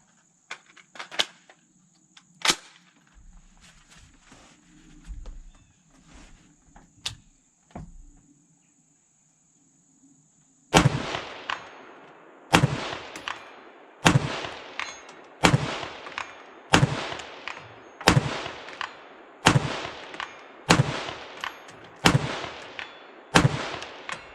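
Steyr AUG M3 A1 5.56mm rifle fired at a 200-yard steel plate: a few scattered sharp shots at first, then a steady string of about a dozen loud, evenly spaced reports with ringing decays, no talking.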